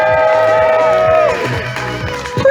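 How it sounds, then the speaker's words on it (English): An audience crowd at an event cheers and whoops loudly on cue, a dense wall of shouting voices with high-pitched cries rising and falling, strong throughout. "I want to hear just how loud our crowd can be"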